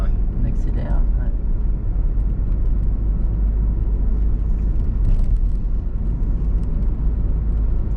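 A car during a driving lesson gives a steady, close interior rumble of engine and road noise with no clear rise in pitch, while people talk over it.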